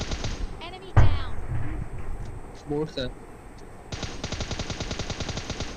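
Automatic rifle fire in the battle-royale shooter PUBG Lite: rapid, evenly spaced bursts of gunshots crackle, with the densest spray toward the end, while a player talks over the action.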